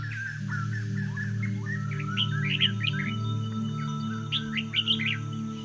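Several caged birds chirp and warble in quick bursts over a steady low electrical hum, the twittering close and continuous.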